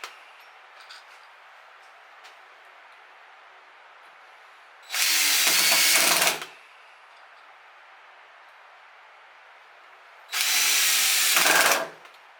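A power drill drives screws into wood during a woodturning bowl project, in two separate loud whirring bursts of about a second each, with a quiet room between them.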